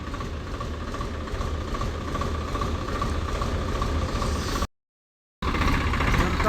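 A Swaraj 855FE tractor, stuck, runs with a steady, loud engine drone and a low rumble that holds throughout, broken by a brief gap of silence near the end.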